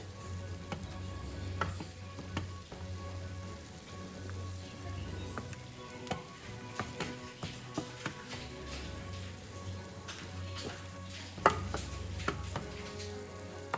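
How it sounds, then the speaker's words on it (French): A meat sauce simmering in a pan, a soft steady bubbling and sizzle bed with a low hum, broken by scattered clicks and knocks of utensils against the pan, no talking. "Je vais laisser mijoter maintenant cette sauce là avec de la viande."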